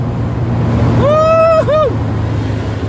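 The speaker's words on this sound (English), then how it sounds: "Driving the Alfetta!" A 1979 Alfa Romeo Alfetta 2.0 being driven, its engine a steady low drone heard from inside the car, with a short voiced exclamation rising over it midway.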